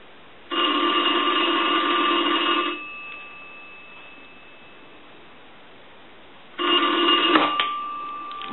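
Bell of a 233G three-slot payphone ringing in two bursts, each a loud close metallic jangle lasting about two seconds, separated by a quiet gap.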